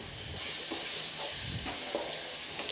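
Cluster beans sauté in oil with turmeric and salt in a pan, a soft steady sizzle with occasional scraping stirs, faint and close.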